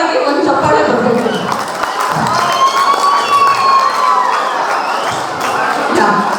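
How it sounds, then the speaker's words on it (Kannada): A crowd of youngsters at a film event cheers and shouts continuously, with a loud, dense roar and scattered claps throughout. "ನೀವೆಲ್ಲರಿಗೂ ಒಂದು ಜೋರಾಗಿ ಒಂದು ಚಪ್ಪಾಳೆ ಬರಬೇಕು"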